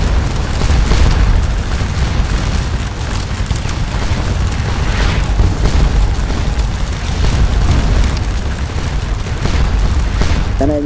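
Massed infantry volley fire and booming blasts from a Napoleonic battle at close range against Dutch militia in Scourge of War: Waterloo, a dense, continuous loud rumble of musketry and explosions with no pause throughout.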